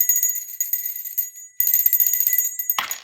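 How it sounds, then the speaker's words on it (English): A struck bell rings with bright sustained high overtones, sounding twice in about three seconds, the second strike fresher and louder, followed by a brief rustling handling noise near the end. "I've been wanting to do my bell all day."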